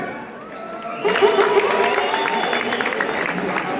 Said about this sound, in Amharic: እስቲ ሞቅ ያለ ጭብጨባ